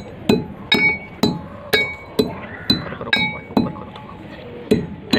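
Kadwi bakhsh being crushed with a mortar and pestle or a hammer, a series of about ten sharp, evenly spaced clinking strikes, close and loud.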